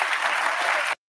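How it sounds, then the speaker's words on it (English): Studio audience on a daytime talk show bursts into steady, dense applause, loud and close, holding for about a second before stopping abruptly. "Everybody got to clap."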